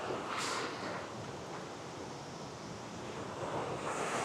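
Rushing water from a waterfall, a steady dense roar of falling and churning water with some wind noise, continuous and fairly close with no voices.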